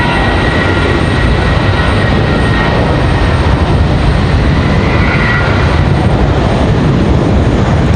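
An American Airlines jet airliner departs Raleigh-Durham International Airport, its engines a loud, steady broadband roar that fills the whole stretch without pause or talk.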